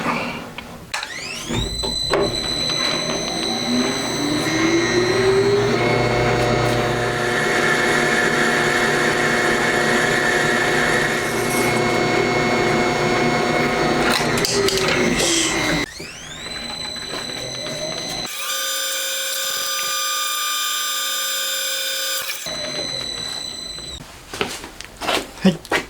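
Drill boring a 9.9 mm pilot hole into a Honda Monkey engine crankcase for a 10 mm bearing bore; a sustained whining motor tone with shifting pitch runs for long stretches, then a second steady whine, close and loud.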